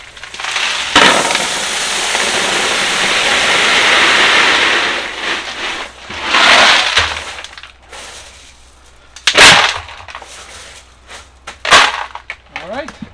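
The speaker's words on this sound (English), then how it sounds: "Pour the hydrotons in." Hydroton clay pebbles are poured into a mesh paint strainer bag on a DIY ebb and flow hydroponic system. A long rattling pour comes first, then a second shorter pour and a few sharp knocks, with a voice speaking in between.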